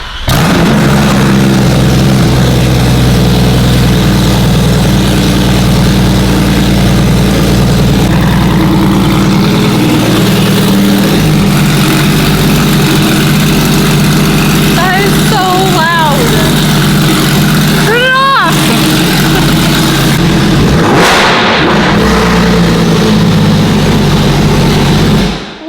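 Porsche 911 GT3RS with a modified exhaust idles and drones steadily, a deep, loud engine tone running throughout, with people talking over it.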